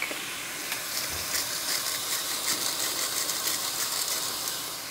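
Ground meat frying in a pan, a steady crackling sizzle with scattered pops and a few scraping stirs, close and continuous without talk.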